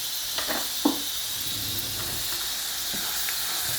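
Green tomatoes and onion sauté in a pan with a steady, bright sizzling hiss that stays constant and close, broken by a few faint clicks.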